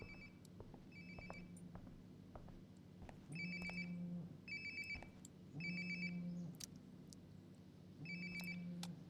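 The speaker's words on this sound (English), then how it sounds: "Sounds like my phone is definitely nearby." A phone rings nearby in a quiet room, its electronic ringtone repeating in regular bursts of high trilling tones over a low steady hum, moderately loud and with no talking.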